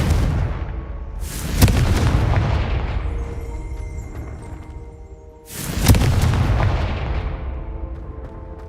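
Two heavy explosive blasts of the Confringo spell in Hogwarts Legacy, each a sharp loud crack that decays into a long rumbling tail, several seconds apart.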